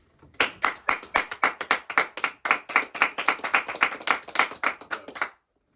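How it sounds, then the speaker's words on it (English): A small group claps together on a podcast, producing a quick run of crisp, close, evenly spaced hand claps that stop abruptly after about five seconds. "Let's have a round of applause for 10 subscribers for you guys."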